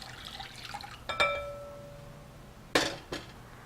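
Hot water poured into a mixing bowl for an eggless chocolate cake batter, with two sharp ringing clinks against the bowl, a brief splash and a light trickle in a quiet kitchen.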